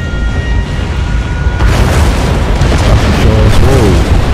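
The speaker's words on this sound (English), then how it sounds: "a meteor shower. It seems one of the disasters" Meteor shower impacts blasting a city in the SimCity video game, a dense continuous roar of booming explosions that swells louder after the first moments, with a brief spoken word over the din.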